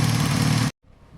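A Honda CB250 engine cranks at wide open throttle with both spark plugs removed for a compression test, a loud, rapid mechanical churning that cuts off abruptly, then a faint low rumble follows.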